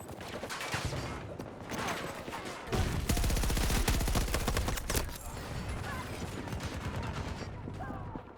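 Rapid automatic gunfire from a hard-kicking gun in Battlefield 2042, dense loud bursts of rattling shots with a sustained stretch in the middle, plus surrounding battle noise.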